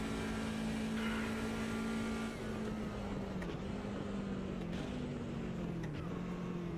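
A high-pitched BMW 2002 touring car engine in the racing game Automobilista 2 whines steadily, dipping briefly a few times as if shifting gears, loud and continuous with no talking.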